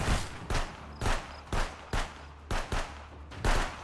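Pistol shots in the video game Contraband Police fire in a steady rhythm of about eight sharp cracks over roughly four seconds, loud and close against low background rumble.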